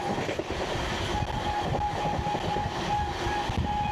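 An LHB-coach express rolls through Belgharia station without stopping, a dense continuous rumble of wheels on rails with faint clickety-clack and a thin tonal whine.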